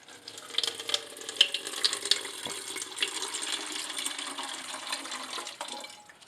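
Water poured from a yogurt cup into a plastic soda bottle for marking measurement lines, a bright splashing trickle that runs steadily for several seconds at close range.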